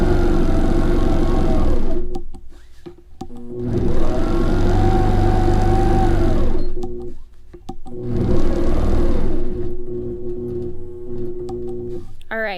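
An APQS longarm quilting machine stitches in the ditch of a quilt border, with three loud sustained bursts of rapid whirring stitching separated by short pauses with clicks as the machine stops.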